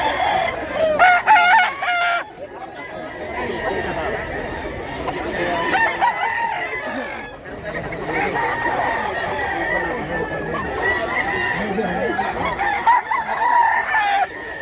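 Chickens and roosters crow and cluck together at a busy street market, several overlapping loud crows with steady clucking and crowd murmur underneath throughout.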